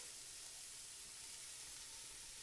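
Onions and red pepper sizzle in a pot, a faint, steady frying hiss that runs evenly throughout with no talking.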